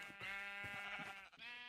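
A sheep in the Minecraft video game bleats, a short nasal wavering call lasting under two seconds, clear and alone.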